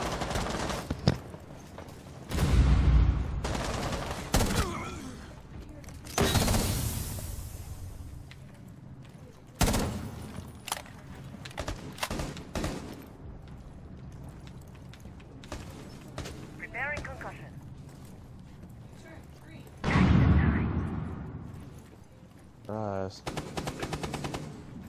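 Rainbow Six Siege gunfire, including a shotgun, cracks out in repeated bursts of rapid automatic shots and single blasts, loud and close, with quieter stretches between and players' voices talking over parts of it.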